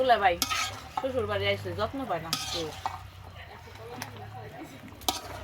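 A spoon scrapes and stirs green banana curry in a pan, with a soft sizzle and occasional utensil clinks, mostly under voices talking throughout.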